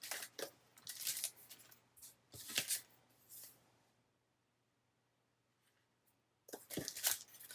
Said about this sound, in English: let me just put a sticker on the back of that